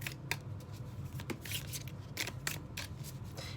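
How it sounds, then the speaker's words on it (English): Tarot cards riffled and shuffled by hand at close range in a reading, a run of brisk crisp flicks and slaps with soft rustle between them, over a faint low hum. "Shuffle them up a little bit."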